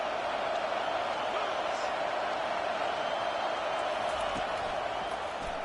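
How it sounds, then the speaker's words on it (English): Stadium crowd at a rainy UCLA vs LSU football game gives a steady, dense roar throughout, with no break or swell. "This crowd knows when to bring it."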